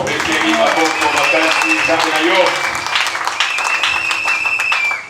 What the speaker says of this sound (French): Applaudissons fortement